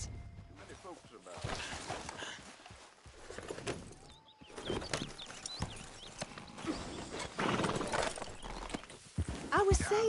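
Horse hooves clip-clop at a walking pace amid Red Dead Redemption 2 game ambience, with people talking over them throughout.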